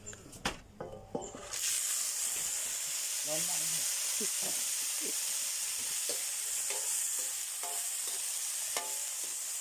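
Giant June beetles dropped into hot oil, starting with a few clanks and knocks before a loud, steady frying hiss sets in, with scattered pops and crackles close by.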